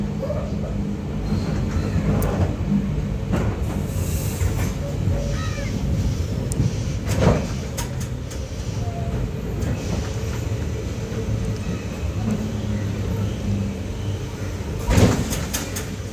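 Passenger train 56305 running from Nagercoil Junction to Thiruvananthapuram North, a steady low rumble of rolling carriages with occasional louder clanks and knocks at regular intervals, continuous and close throughout.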